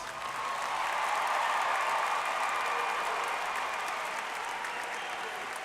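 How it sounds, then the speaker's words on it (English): Sustained loud applause from a large crowd at the 2018 Hampton High School graduation for the class of 2018, a dense steady roar of clapping that holds evenly throughout, with no voices standing out. "I know you will join with me in giving these young people of the class of 2018, these Crabbers, a round of applause."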